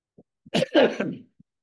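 A few short coughs and throat-clearing bursts, close and fairly loud, with faint small clicks before and after.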